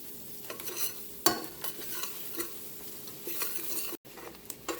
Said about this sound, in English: we're going to add in 3 tablespoons of flour and make a little bit of a light roux with this